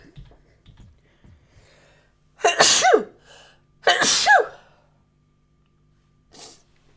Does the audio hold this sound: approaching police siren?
no